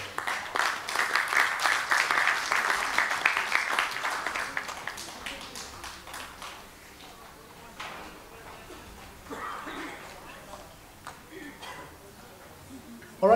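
Audience clapping at a youth awards ceremony, a dense burst at first that fades into scattered claps and murmuring, with a voice speaking over the thinning applause.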